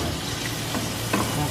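White onion, two pieces, sizzling and frying in a pan for seafood paella, a steady broadband hiss with a few soft stirring clicks, close and continuous with no talking.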